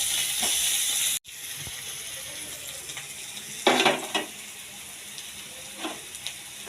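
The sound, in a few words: garlic frying with browned onions in oil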